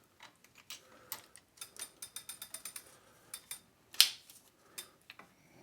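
Small ratcheting clicks from tightening the bolts of a bicycle crank arm power meter, a quick series of light, close ticks in short runs with one sharper metallic snap, no voices.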